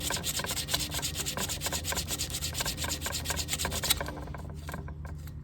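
Metal on a snowblower ignition coil being sanded by hand, a steady, close, rhythmic rasping scrub of repeated strokes that continues without pause, easing slightly in brightness near the end.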